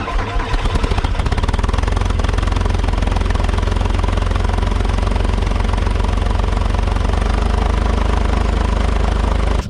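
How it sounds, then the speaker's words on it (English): A Bobcat skid loader's engine runs loud and close in freezing cold. It is rough and uneven for about the first second, then settles into a steady, heavy diesel drone with no voices. "usually we never have problems with skid loaders starting, but when it's this cold, I guess they struggle a little bit"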